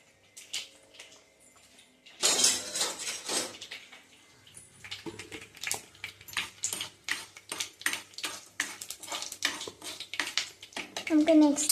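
A spoon and dishes clattering in a home kitchen, with a quiet stretch, then a loud burst of clinks and a long run of rhythmic metallic taps and scrapes, with someone speaking softly at times.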